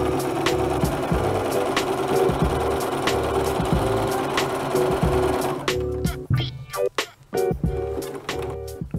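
Sewing machine running a zigzag seam along the edge of sweater fabric, loud and close, humming steadily for several seconds before stopping and starting in short choppy bursts.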